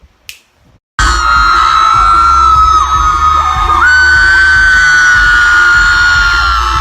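Screaming fans as Tana Mongeau comes out at a live appearance, a loud, sustained wall of high-pitched shrieks and yells from a packed crowd that bursts in suddenly after a brief quiet start.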